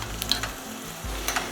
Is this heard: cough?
no